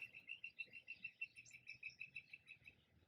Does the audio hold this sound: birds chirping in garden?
yes